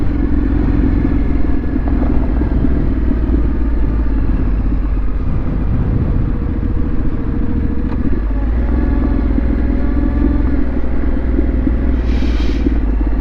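A motorcycle rides over loose fine gravel on an open country track in northern England, its steady engine drone and low rumble continuous and close, with the rear tyre crunching and slipping across the stones throughout.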